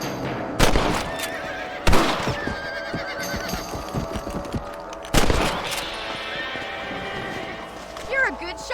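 Sharp gunshots in the Red Dead Redemption video game as rabbits are shot, three loud cracks spaced a few seconds apart over horse whinnies, hoofbeats and ambient outdoor sounds.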